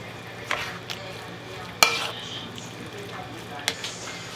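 Eggplant being stirred in a pan of sizzling food, with a few soft scrapes and a sharp clatter of the utensil against the pan over a quiet, steady fry.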